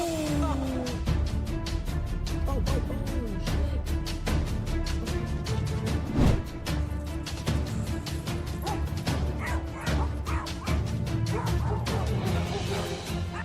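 Several dogs bark and yip in rapid, overlapping bursts, close and loud, with occasional whimpers and a faint voice underneath.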